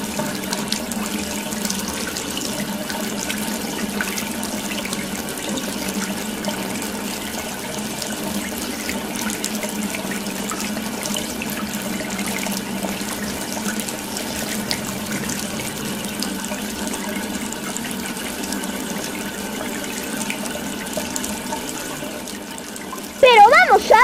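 Rushing water in a Super Mario Bros video game level, a continuous running-water wash with a low hum and game tones underneath, a voice talking over it and a sharp burst near the end.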